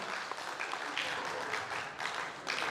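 Concert audience applause at a performance, a steady wash of clapping from a crowd at moderate level, filling the short moment without pause.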